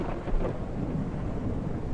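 A thunderstorm in the survival game Mist Survival: steady, dense rain hiss with low rolling thunder rumbling underneath, continuous and enveloping throughout, with no voices.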